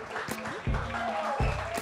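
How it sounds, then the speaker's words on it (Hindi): Brief applause at a film song launch event rises under overlapping voices, with a burst of clapping swelling near the end of the short stretch. "तालियां तेज"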